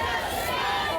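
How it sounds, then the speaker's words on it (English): A huge crowd at the 44th annual St. Louis Grand Pride Parade downtown, a dense, loud wash of voices and chatter with cheering throughout. "The 44th annual Grand Pride Parade kicked off amid a huge crowd in downtown St. Louis Sunday afternoon."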